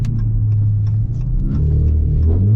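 A catless, flame-tuned V6 Dodge Charger slides in the rain, its engine a loud, close, continuous low rumble rising slightly in pitch toward the end.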